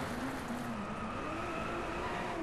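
Race cars in the video game Driveclub, a steady droning engine tone with a faintly rising pitch, moderately quiet and continuous, with no talking over it.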